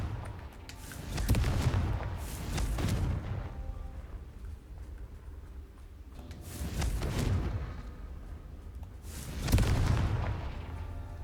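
Confringo spell explosions in the Hogwarts Legacy video game, heard as three separate booming bursts, each swelling and rolling away over several seconds, loud and close, with no voices.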